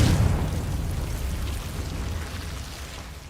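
A Confringo fire spell exploding in the video game Hogwarts Legacy, a loud rumbling blast at the start that decays into a long, fading roar with no talk.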